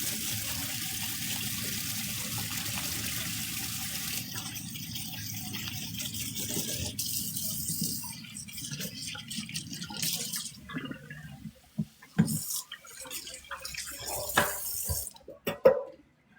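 Kitchen tap runs steadily as vinegar water is rinsed off, a loud continuous splashing stream that later breaks into intermittent gushes and drips as the flow changes and stops.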